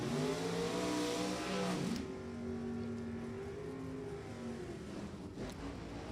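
A 1967 Camaro and a 1965 Mustang launch off the line at a drag strip, engines roaring loud and rising in pitch, then the sound settles into a sustained high whine as they pull away.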